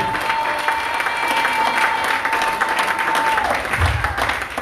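A church congregation applauds and acclaims the Lord, with sustained loud clapping and crowd cheering filling the room and a voice carrying above it.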